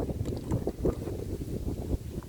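Wind buffeting a phone microphone outdoors, a low, rough rumble of gusts that swells and dips throughout, with no clear speech.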